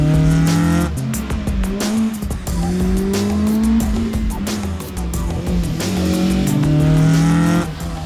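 A VW Golf rally car with a 1.6 litre, 170 hp engine built to Group 1B, at the Eifel Rallye Festival, revs loudly and close up, rising and falling through repeated gear changes with a brief tire squeal.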